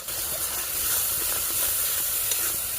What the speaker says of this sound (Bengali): ভালো করে ওর সাথে মশলাটা কষিয়ে নেব।